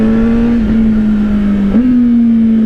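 A 2025 Honda CBR600RR motorcycle engine holds a steady, close buzzing drone, with a quick, slight rise in pitch from a throttle blip near the end, and no talk.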